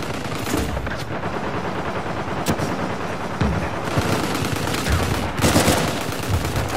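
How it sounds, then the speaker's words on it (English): Gunfire and grenade-launcher blasts in Uncharted 4 multiplayer, sharp bursts of shots and booming hits arriving in clusters, loud and close, with brief lulls between volleys. "Grenade launcher to the face."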